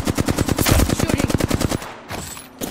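Rapid machine gun fire in a first-person shooter video game, a dense close burst of evenly spaced shots lasting almost two seconds, then trailing off into fainter game noise.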